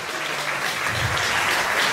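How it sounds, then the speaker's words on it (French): A crowd applauds Gaëlle Zingilé at a studio inauguration in Guadeloupe. The clapping is dense, steady and fairly loud, and it holds evenly for the whole stretch with no voices over it. "Des applaudissements pour elle."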